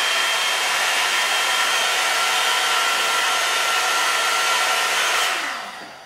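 Cheaper knock-off one-step hair dryer blowing on its high setting, a loud, steady close-up whoosh of rushing air and motor hum that falls away at the end as it switches off.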